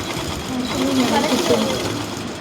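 A sewing machine runs steadily while stitching the gathered bottom of a frock, a continuous close whirring hum lasting throughout, with a voice talking over it.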